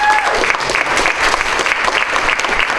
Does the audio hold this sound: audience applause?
yes